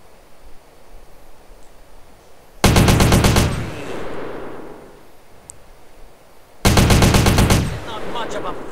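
Two loud bursts of rapid automatic fire from an AK-47 in GTA San Andreas, each roughly a second long with a rattling rhythm, separated by quieter ambient game noise.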